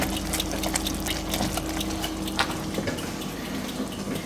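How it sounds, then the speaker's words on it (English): An orange fudge mixture boils hard in a pan on its way to 118 °C, giving a steady, close bubbling hiss with small pops and splutters throughout and no talking. "That's not simmering, that's boiling."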